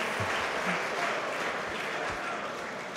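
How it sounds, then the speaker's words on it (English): A packed darts crowd at a Sunday afternoon championship session applauds in a continuous, roaring wash of clapping and cheering, loud and sustained throughout. "The crowd showing their appreciation."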